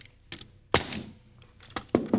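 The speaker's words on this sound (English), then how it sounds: "using the pneumatic nail gun to do the same thing" A pneumatic nail gun driving nails into a wall in an older house: a few sharp, loud snapping shots spaced irregularly, close by, with short quiet gaps between.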